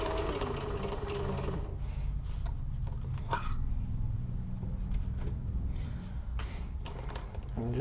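A sewing machine stitches around the top of a toiletry kit, working around its handles, with a loud steady motor hum and rapid needle ticking throughout and a few faint clicks along the way.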